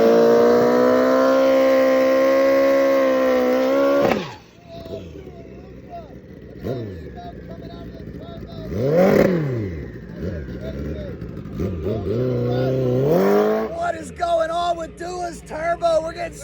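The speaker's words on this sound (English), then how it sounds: "They're going to let Panda make another run." Turbocharged drag-racing motorcycle revving loudly at high pitch, then cutting off, followed by more engine revs and rising bursts near the end. Crowd and announcer talk can be heard around it.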